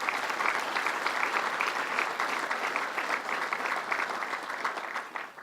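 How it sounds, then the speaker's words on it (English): Steady audience applause at a governor's public policy event in Syracuse, many hands clapping in a dense sustained wash that fades slightly toward the end. "Let's give him a round of applause."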